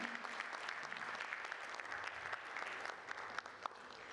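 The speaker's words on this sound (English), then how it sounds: "Can we have a huge round of applause, ladies and gentlemen?" A conference audience at a food and nutrition event in India applauding warmly, with sustained, dense clapping from many hands in a hall, moderately loud and steady throughout.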